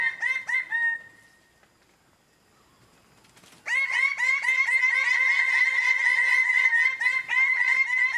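Several male greater birds of paradise call at a communal lek, a loud chorus of sharp, repeated nasal notes in rapid series, a brief lull, then a dense overlapping burst of calls.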